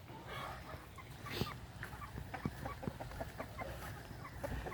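Chickens clucking softly in a flock, a steady scatter of short clucks and calls at moderate distance over low background noise.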